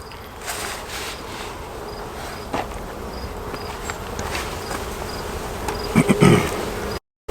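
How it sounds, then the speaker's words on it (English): Dense buzzing of many honeybees close by in an open hive, a continuous hum with occasional louder individual buzzes passing near, then a brief cut at the end. "There is a lot of bees up here."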